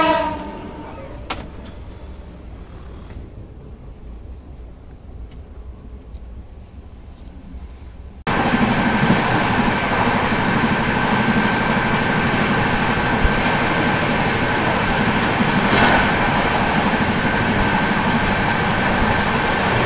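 The Sampoorna Kranti Express passenger train runs at night between Patna and Delhi. A quiet interior gives way suddenly to a loud, steady rumble and roar of wheels on track that goes on without a break.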